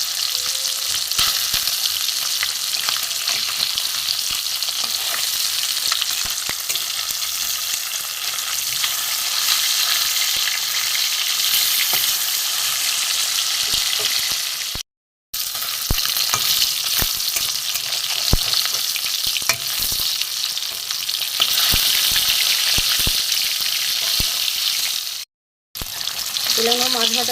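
Four pieces of rohu fish fry in hot oil with a loud, continuous sizzle and crackle that carries on for a long stretch, broken by two short silences and occasional stirring knocks.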